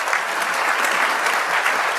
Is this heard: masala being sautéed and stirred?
no